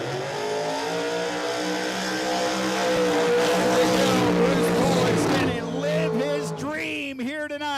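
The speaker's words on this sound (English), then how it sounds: "With another incredible burnout." A 1956 Chevrolet drag car powered by a Fulton motor does a burnout at a dragstrip, its engine roaring loud and steady with tire noise throughout, while an announcer talks over it and a rising yelp-like sweep cuts in near the end.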